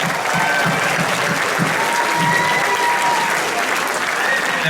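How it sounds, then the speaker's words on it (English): A crowd at an entertainment showcase claps steadily for a performer named Devin, a continuous, fairly loud wash of applause with no break throughout. "Nice round of applause for Devin!"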